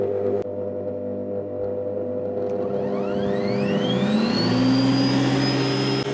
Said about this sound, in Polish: Tutaj wyraźnie ten silnik jest głośniejszy.